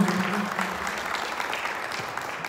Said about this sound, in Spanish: Vamos a regalar un aplauso para ella